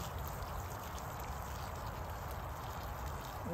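Steady running water pours continuously onto plants, a broad hiss with a low rumble underneath, close by and fairly loud with no talking.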